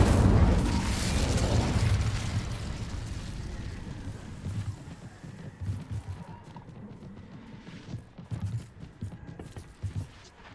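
Incendio fire spell cast in Hogwarts Legacy, a loud whooshing fiery burst at the start that fades into lower crackling and scattered soft thumps and clicks, growing quieter over several seconds.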